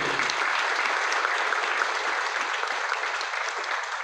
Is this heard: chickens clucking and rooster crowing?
no